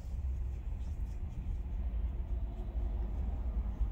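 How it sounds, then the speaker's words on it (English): Traffic on a Chicago street on a wintry day, a low continuous rumble of passing cars and engines at a moderate distance, steady and faint with no talk. "Letting y'all look at the traffic pass by and the people moving about"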